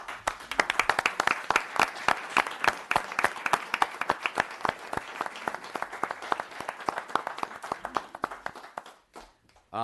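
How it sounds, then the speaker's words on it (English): Attendees at a town board meeting clap for around nine seconds, with distinct individual claps audible within the applause, before it stops abruptly. "a big round of applause"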